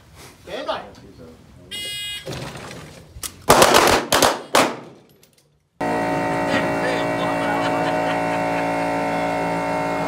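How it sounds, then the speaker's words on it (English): Pistol gunshots ring out at a shooting match in a quick burst of several sharp cracks, amid commands and crowd talk, before the sound cuts to a steady, noisy background. "From the ready. Four shots."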